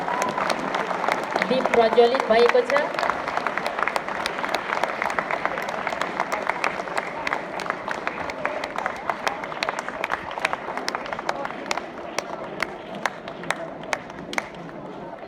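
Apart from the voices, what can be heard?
audience applause at lamp lighting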